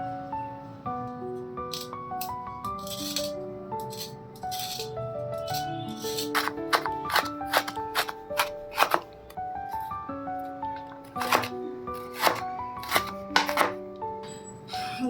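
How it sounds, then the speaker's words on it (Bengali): A knife cuts carrots for homemade fried rice, making irregular crisp taps on a board that grow busier over the second half, under steady background music. "প্রথমে কাটছি গাজর।"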